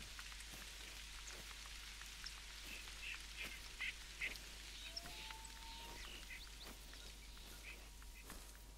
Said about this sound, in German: Regen, gut für mich.